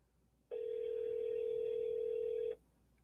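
Outgoing phone call ringing, one steady electronic ring tone lasting about two seconds, clear and close against a quiet background.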